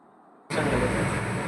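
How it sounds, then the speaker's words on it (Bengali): Steady broadband rumble inside a moving passenger train, a loud continuous roar that starts abruptly and holds even, with no voices on top. "আমরা এখন সবাই ট্রেনে উঠে পড়েছি"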